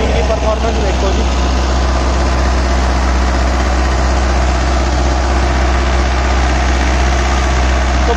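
Mahindra Arjun 605 Ultra 1 tractor runs a rotavator, giving a loud, constant low engine drone with steady mechanical churning throughout, unchanging in level.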